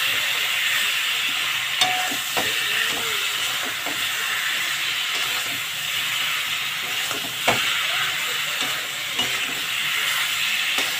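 Turmeric, ginger paste, dried chilli paste and tomato fry together in a pan for a pangas fish curry, giving a steady close hiss broken by occasional stirring clicks and taps.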